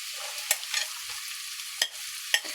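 Finely chopped onion sizzles steadily in a pan for a chicken macaroni pasta, with a constant bright hiss broken by a few sharp scraping stirs, fairly close and without speech.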